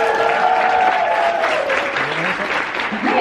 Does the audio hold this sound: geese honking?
no